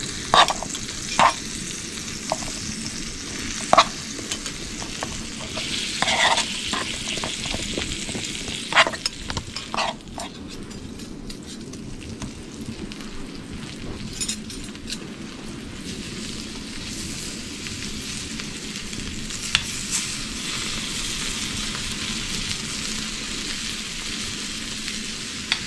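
Vegetables sizzling and crackling in butter in a hot pan, a steady frying hiss with occasional louder pops and stirring scrapes, no talking.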